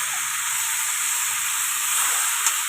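Marinated chicken frying in hot spiced oil in a pan, a steady bright sizzling hiss close up, continuous and even with a small crackle near the end, no talk.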